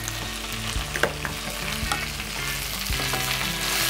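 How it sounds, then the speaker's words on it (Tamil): Drumstick leaves sauté in hot oil in a pan, giving a steady close sizzle with scattered crackles and occasional scraping stirs, no voices. "ஸோ நல்லா எண்ணெயில் வதக்கியாச்சு"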